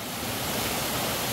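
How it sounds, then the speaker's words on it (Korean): A swollen waterfall on a mountain hiking trail after a typhoon roars in a steady, loud broadband rush of falling water, close by and continuous with no voices. "폭포를 만났습니다"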